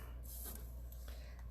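Paper backing peeled from a freshly pressed piece of a papercraft wheelbarrow treat holder makes a faint, soft rasping hiss in a short burst, then a quieter second rustle, with no talking.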